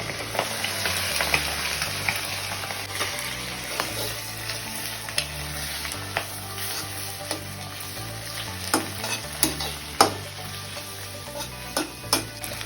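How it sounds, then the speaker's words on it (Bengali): Tomatoes, chilies and onions with egg are stirred in a frying pan for pasta, giving a steady oily sizzle with repeated scraping strokes of the utensil against the pan, close and continuous, with no talking. "আমরা এখন ভালোভাবে এটাকে নেড়ে চেড়ে নেব।"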